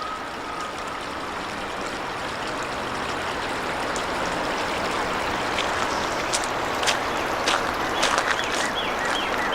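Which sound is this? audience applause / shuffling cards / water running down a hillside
water running down a hillside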